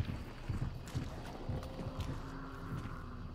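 Trampling hooves in the video game Hunt: Showdown, a rhythmic clip-clop of heavy footfalls at moderate distance, repeating steadily and fairly faint.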